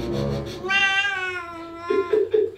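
A cat meows in a long drawn-out call followed by a few short, sharp meows, loud and close in a bathroom setting, with no talking.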